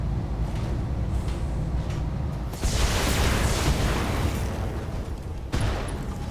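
A loud explosion bursts out in the BattleTech mech combat game and rolls on as a broad rumble under continuous battle noise, with a second sharp hit near the end.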